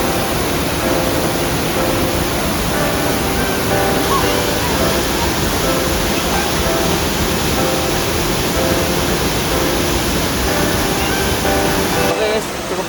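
Curug Siluwok, a waterfall in Kulon Progo, roars as a loud, steady, close wash of falling water that fills the whole scene without a break until a brief dip at the very end.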